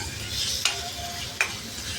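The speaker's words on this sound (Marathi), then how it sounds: "तेव्हा आपली 5 मिनटं डाळ छान तेलावर परतली आपण" Dal (lentils) frying in hot oil, a steady soft sizzle with stirring scrapes and two sharp utensil knocks against the pan, close and continuous.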